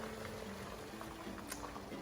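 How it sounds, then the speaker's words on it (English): Salted pasta water boiling in a pot on the stove, a steady low bubbling hiss with small pops, close and fairly quiet, no voices. "So now that the water is boiling, we're gonna go ahead and salt the water."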